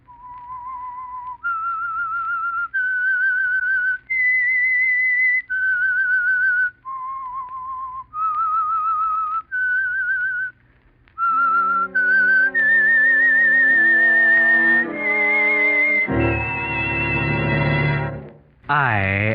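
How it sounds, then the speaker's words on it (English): A lone, clear whistled melody, the signature tune of the 1947 radio mystery show The Whistler, rises and falls in distinct phrases before swelling into a loud orchestral flourish. "That whistle is your signal for the Whistler."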